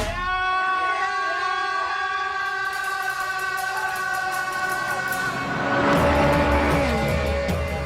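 A Ferrari 430 Scuderia's engine sings loud and close in a steady, sustained tone, rising through revs, with a brief swell of extra roar near the end.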